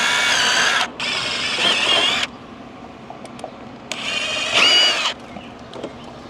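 Power drill pre-drilling screw holes into a TimberTech Reliance level deck railing, three loud whirring bursts of about a second each with quiet pauses between, close by and with no talk.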